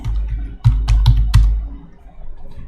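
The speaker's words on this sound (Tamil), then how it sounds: "அதை நான் டைப் பண்ணிக்கிறேன்" Fingers tap on a computer keyboard, several close, crisp key clicks in an uneven burst over a low steady hum, with no talk.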